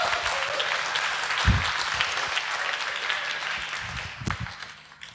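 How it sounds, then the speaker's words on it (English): Audience applause at a lightning talk session, steady clapping throughout that fades slightly near the end, with a few louder claps standing out. "I would, of course, like you to give them a round of applause before they even get started"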